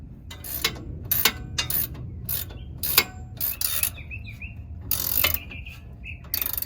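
A wrench or ratchet clicks in short bursts while tightening sway bar disconnect hardware on a 2023 Jeep Wrangler JL, close and fairly quiet, with a few faint bird chirps in the background.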